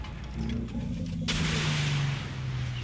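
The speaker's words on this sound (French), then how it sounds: "Tir d'artillerie en approche." Incoming artillery fire in the Armored Warfare tank game, heard as a sudden loud blast of noise partway through after a low tank engine rumble, followed by a sustained roaring wash that slowly fades.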